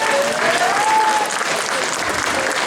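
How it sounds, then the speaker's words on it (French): Audience applause for a cosplay contestant at a geek convention contest, loud continuous clapping from a crowd, with a whistle rising briefly early on. "N'hésitez pas à l'applaudir"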